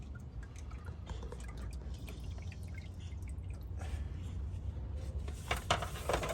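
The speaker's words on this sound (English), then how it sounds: "Let's drain the remaining fluid." Leftover transmission fluid from a Mercedes GLS (X166) drips and trickles into a container with the pan removed, a faint, uneven liquid patter that grows slightly busier toward the end.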